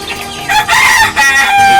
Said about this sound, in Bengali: এই দেখতে পাচ্ছেন এগুলো হলো আমার অরিজিনাল দেশি মুরগি